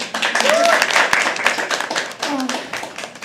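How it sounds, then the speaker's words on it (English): Audience clapping for a poet at a live open mic, a burst of hand claps from the crowd while voices talk over it throughout. "A round of applause for Harsh."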